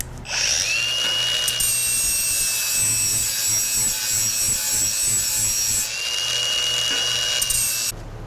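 A power tool bevels the edges of a wooden part for a home-built ATV trailer, a loud steady high-pitched whine and grind across two long passes with a short dip between them.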